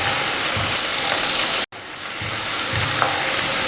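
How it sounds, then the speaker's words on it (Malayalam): Crushed shallots and garlic fry with dried red chillies for a Kerala-style dal curry, producing a loud, steady close-up sizzle with a brief cut in the middle and a few soft stirring knocks. "ഇനി നമുക്ക് ഇതിനകത്തോട്ട് ചതച്ച് വെച്ചിരിക്കുന്ന ചുവന്നുള്ളിയും വെളുത്തുള്ളിയും കൂടെ ചേർത്ത് കൊടുക്കാം."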